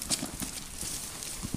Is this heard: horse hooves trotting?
yes